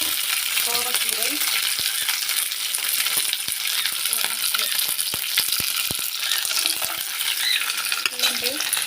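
Thuthuvalai and kovai leaves frying in oil for a rasam, a loud steady sizzle with scattered stirring clicks and scrapes of a spoon in the pan, close and continuous.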